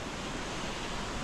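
Minyon Falls on the Tweed Coast, heard from the top of the waterfall, gives a steady, even rush of falling water with no other sounds on top.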